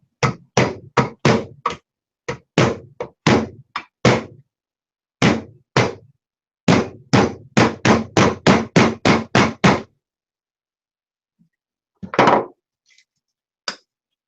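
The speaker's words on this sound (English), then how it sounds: "now I can hammer this home" A part is hammered into place on a Printrbot Simple 3D printer: sharp, loud knocks come in fast runs of several blows separated by short pauses, then a longer gap and two lone, quieter taps.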